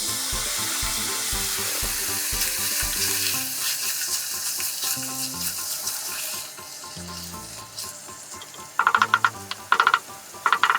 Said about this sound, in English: Mix in the carrot, celery, and bay leaves.